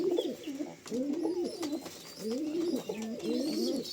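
A pigeon at its nest with four newly hatched chicks coos in repeated low, throaty phrases close by, with a few faint background chirps and no talking.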